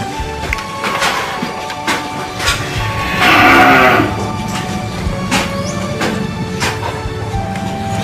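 Cattle on a farm give a loud, drawn-out moo over a steady barn background of shuffling, feeding and occasional knocks. The lowing stands out near the middle, and no voices are heard.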